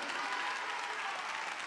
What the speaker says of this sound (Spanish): Give the Lord another great hand clap.